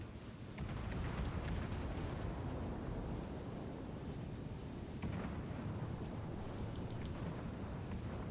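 Warship guns firing in World of Warships Legends make a dense, continuous roaring rumble, like a heavy barrage mixed with wind-like noise. The sound swells slightly partway through and stays loud and unbroken to the end, with no voices.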